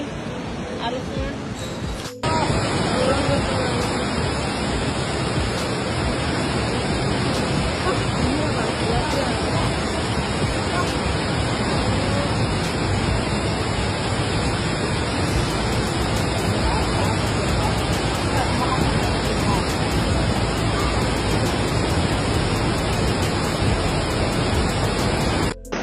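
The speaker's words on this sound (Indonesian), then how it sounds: "Ini tambah deras di sini arusnya." A fast, swollen brown flood river rushes in a steady loud roar in West Sumatra, with a constant broadband rumble running throughout and faint voices beneath it.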